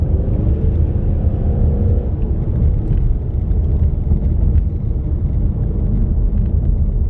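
A 2016 Ford Mustang driving through canyons, heard from inside the car as a steady, loud low engine rumble and road drone that holds level throughout with no voices.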